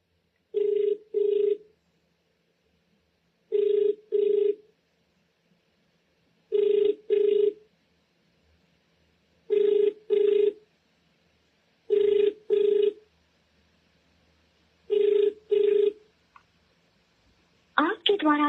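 A telephone ringing on a call, in steady double-burst rings repeated about every two and a half seconds, clear and alone against near silence, with a brief voice starting at the very end.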